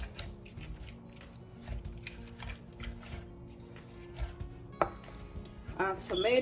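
Tomatoes are roughly ground in an asanka earthenware bowl, giving faint, repeated scraping and grinding strokes in an uneven rhythm, close by, with a few slightly louder knocks near the end.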